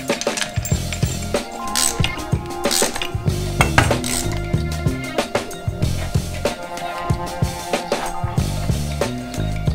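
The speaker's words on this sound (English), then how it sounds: "Now it's time to get the bolts back in place." Bolts and a washer handled and fitted on Honda CB500 cafe racer parts, with repeated metallic clinks, jingles and ratcheting clicks close up over a steady backing of loud music.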